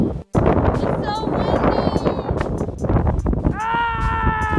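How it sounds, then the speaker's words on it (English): Gusty wind buffets the microphone on a snowy tubing hill in Maine, a steady broadband rumble running throughout, with voices talking over it and a brief high tonal whine near the end. "It's so windy."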